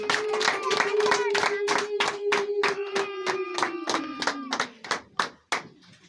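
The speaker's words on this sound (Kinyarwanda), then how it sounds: "reka Imana muyishimire n'amashyi menshi" Rhythmic group clapping from an audience thanking God during a charity group's visit to a blind mother, even steady beats under a sustained singing or chanting voice, thinning to a few scattered claps at the end.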